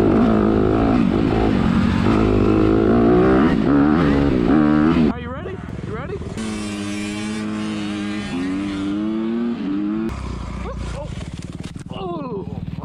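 Dirt bike engine in the MX Bikes motocross game, a loud continuous drone with rising and falling revs and gear changes, running steadily throughout with a drop in level partway.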